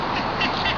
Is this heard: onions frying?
no